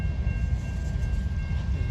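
Two old CSX Geep diesel locomotives switch railcars at an interchange yard in Decatur, Alabama, giving a steady, loud low-end rumble of idling diesels with a faint constant tone above, no talk.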